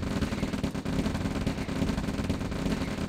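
Tanks firing on their own in Command & Conquer Red Alert, a loud, continuous rattle of rapid gunfire and heavy shots layered into a dense, unbroken barrage.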